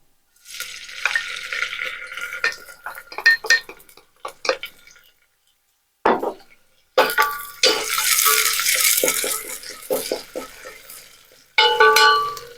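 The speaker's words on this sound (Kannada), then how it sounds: "ಎಣ್ಣೆ ಕಾದ ನಂತರದಲ್ಲಿ ಇದಕ್ಕೆ ಚಿಕ್ಕದಾಗಿ ಹೆಚ್ಚಿಟ್ಟಿರ್ತಕ್ಕಂತಹ ಹಸಿಮೆಣಸಿನಕಾಯನ್ನ ಆಡ್ ಮಾಡೋಣ" Finely chopped green chillies hit hot oil in a pan while cooking mutton sukka, giving a bright, crackling sizzle broken by spoon stirring and scraping, then a louder burst of frying toward the end.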